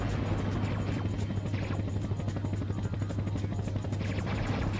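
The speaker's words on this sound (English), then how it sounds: "Now this is fun with the helicopter." Helicopter in the Mega Drive video game Jungle Strike, a steady loud rotor chop and engine drone with a constant low hum, continuous throughout with no talk.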